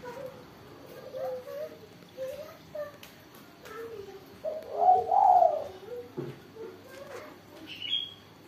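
A spotted dove (tekukur) gives soft, rhythmic coos in short repeated phrases over quiet background ambience, heard close and moderately loud.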